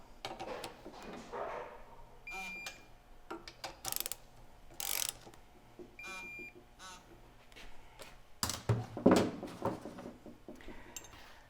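A ratchet wrench clicks in short bursts while cylinder head bolts are tightened on a Toyota 1FZ-FE engine in an 80 Series, with metallic clinks, brief tool beeps and someone speaking at intervals.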